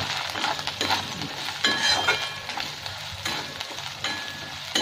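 Turmeric and coriander powder frying in a pan for dhaba-style paneer, continuous sizzle punctuated by irregular scraping and clinks of a spatula against the pan, close and moderately loud.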